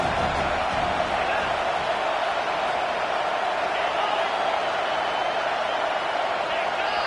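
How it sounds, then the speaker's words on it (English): A roaring football stadium crowd at an Ole Miss game, a dense, steady wall of loud noise with no breaks, building pressure on a goal-line play. "Fans are bringing the noise on 1st and goal."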